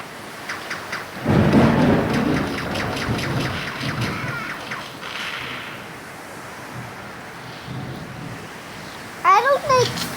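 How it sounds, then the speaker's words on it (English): An outdoor rainstorm opens with a loud, rolling rumble of thunder, then settles into a steady hiss of rain, with brief voices nearby. "you can hear how it's raining. It's a storm out there"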